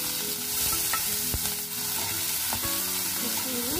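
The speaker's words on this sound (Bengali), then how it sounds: "পেঁয়াজ দিয়ে দিলাম, পেঁয়াজগুলো একটু টুকরো করে কাটা," Chopped onions hiss in hot oil with chillies in a wok, a busy steady sizzle with clattering scrapes and knocks from a spatula stirring them.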